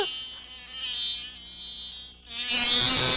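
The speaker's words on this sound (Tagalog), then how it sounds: "Nandyan na naman yung bubuyog!" A cartoon bee buzzes loudly and continuously in a high, whining drone, dipping briefly before surging back even stronger and closer.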